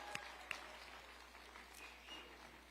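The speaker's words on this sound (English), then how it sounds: "Let's give you all a round of applause." At a city safety honor reception for taxi and for-hire drivers, a room applauds in a soft, steady patter heard from a distance, with a couple of sharp nearby claps early on.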